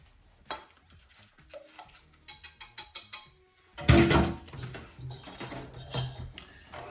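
Cake batter of egg mixture and oil gets beaten in a bowl: a run of quick light clinks and scrapes, then a louder, denser burst of whisking and mixing that continues more unevenly, close by and without voices.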